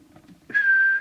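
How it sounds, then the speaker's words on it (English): A single steady whistle lasts about half a second. A person blows it into the microphone of an Audioline 340 UK CB radio as a transmit test. It is clear and close, with nothing else around it. "we're going to do the whistle test and not the oscillator"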